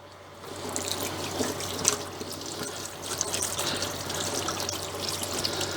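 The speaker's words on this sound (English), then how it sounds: "I'm going to go wash my hands off" Hands being washed under a running kitchen tap, a steady rushing stream of water with small splashes and rubbing sounds, close and continuous, with no talking.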